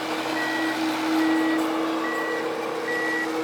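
A loader truck pushing sand into a concrete plant gives steady, repeated reversing beeps over its loud diesel engine drone, close by and with no talk.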